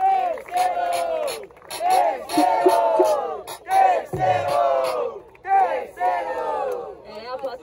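A rap battle crowd at Batalha Da Leste roars and chants its vote in loud, rhythmic bursts of collective shouting, with short dips between waves of voices.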